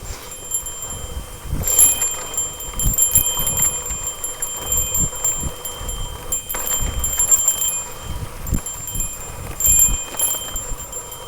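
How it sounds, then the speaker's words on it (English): A mountain bike's bell jingles continuously during a sandy downhill run on the Fullerton Loop trail, with bright metallic chiming pulsing over the rumble and rattle of the tires on dirt. "Flip that bell on, hit this little downhill."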